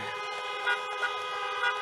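Car horns honking at a drive-in political rally with about thirty cars, a sustained blare of layered tones with short extra toots popping out on top, no voices heard.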